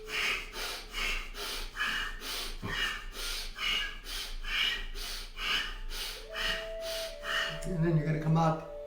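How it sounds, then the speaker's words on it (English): Rhythmic heavy breaths from a tai chi breathing exercise, nine slow in-and-out cycles at steady pace, close and clear, ending with a few brief vocal sounds. "I'll breathe heavy so you can follow."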